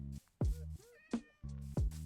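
A Minecraft cat meowing, with several clear, close meows in quick succession mixed with a blocky game tone pattern in the background.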